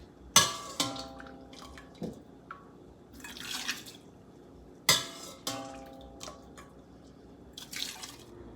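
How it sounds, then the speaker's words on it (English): Beet juice ladled over boiled eggs and beets, splashing in sharp drips and pours with clinks of a ladle against the pot, in two separated bursts, near and without talk. "I'm going to ladle it right on top. We're going to use all of this liquid."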